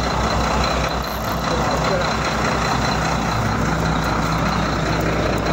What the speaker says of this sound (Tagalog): Maingay ang truck.